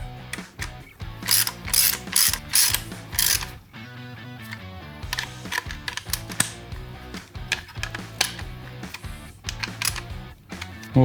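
A hand ratchet tightens motorcycle fan mounting screws up close, giving several quick clicking bursts and then shorter, hesitant strokes with pauses between them.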